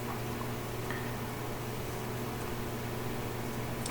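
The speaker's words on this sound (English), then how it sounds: "When the room blower kicks into full speed, you can hear it. It's loud" An Ashley Bayfront extended-hopper pellet stove's room blower runs at full speed, a loud, steady, even whir with a low hum that holds unchanged throughout, close by and with no talking.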